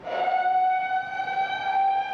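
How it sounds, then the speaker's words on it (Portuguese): A civil defense siren sounds during a scheduled monthly emergency drill in Rio de Janeiro. It holds a steady, piercing multi-tone wail at moderate distance, with no other sound over it. "Todas as sirenes são acionadas."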